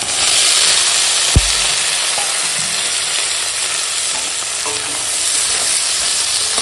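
Potato, slit green chilli and tomato frying with ginger-garlic paste, a steady loud sizzle with occasional stirring scrapes and a single sharp clink near the start.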